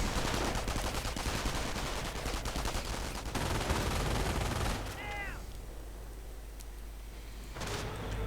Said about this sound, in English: Grenades at the riflemen and at the Grenadiers, but also MG42 fire.